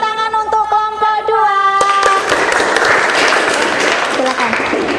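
A classroom audience claps for a presenting student group, a dense burst of applause starting about two seconds in and running to the end, with voices over the start.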